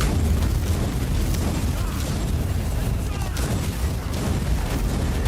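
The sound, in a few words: explosion in the video game Warhammer 40K Inquisitor Martyr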